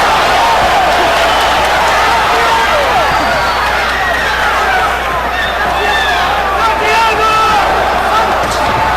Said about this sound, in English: There's a lot of cheering and excitement in the arena.